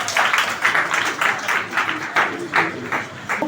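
Congregation clapping in rhythm during a church service praising the Lord, steady repeated claps at a moderate distance, with faint voices underneath.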